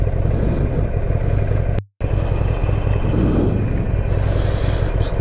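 A car pulls away with a steady, close engine rumble that rises slightly as it moves off, broken by a brief dropout in the sound.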